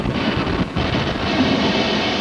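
Steam hisses out steadily as a train's brakes release, a broad loud rushing that holds continuously with a brief dip near the start, with no voices.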